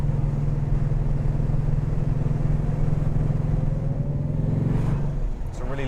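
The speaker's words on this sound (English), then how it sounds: "I so want to rev it more than that." A Lancia Flavia engine, a steady close low idle rumble that rises briefly in a light rev near the end before settling.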